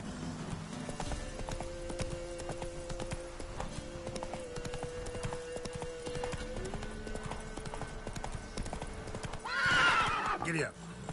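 Horse in The Witcher 3 video game: steady hoofbeats of a gallop run throughout, closing with a loud, shrill neigh near the end, and a voice speaks briefly.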